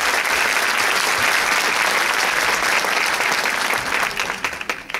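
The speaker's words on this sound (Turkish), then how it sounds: "çok büyük bir alkış alabilir miyiz?" Loud, dense applause from an audience at a Turkish association gathering, sustained clapping that fills the room before thinning into scattered claps at the end.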